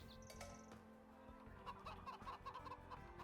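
Chickens clucking in the video game Three Kingdoms DLC, a run of quick soft clucks and chirps over faint ambient background, fairly quiet and close.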